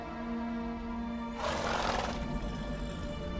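Roach, the horse in The Witcher 3: Wild Hunt Blood and Wine, gives a single short neigh that rises briefly out of a quiet, steady game ambience before fading back.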